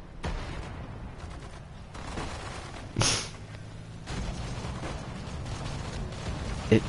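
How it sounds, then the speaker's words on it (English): A Stuka's dropped bomb bursts in Sudden Strike 4 with one sharp, loud blast roughly midway, set among lighter mechanical clatter and distant battlefield rumble. "Stuka just drops a massive bomb on it."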